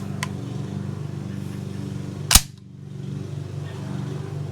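Charging handle racked on an LMT L129A1 rifle replica, giving one sharp, close metallic clack midway, with a fainter click at the start, over a steady low mechanical hum.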